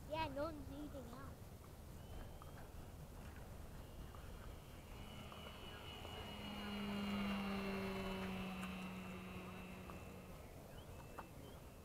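A radio-controlled Gee Bee model airplane flies aerobatics at an airfield, its small engine whining and rising in pitch as it passes nearer, with people talking nearby throughout.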